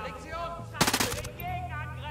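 Rapid, high-rate automatic gunfire in a video game erupts in a short loud burst over background game sounds, with a voice talking around it.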